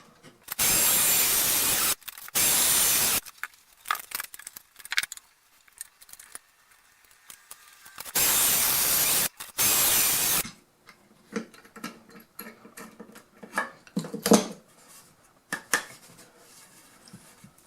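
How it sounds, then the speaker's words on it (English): A power drill bores angled holes into a wooden rewiring board in two bursts of whirring a few seconds apart, each followed by quieter clicks and handling noises. "now I'm just going to go ahead and drill in"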